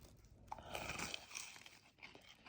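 Bites into a crispy croissant taiyaki (bungeoppang) give close, quiet crunching and chewing, a few crisp snaps followed by softer mastication with no talk over them.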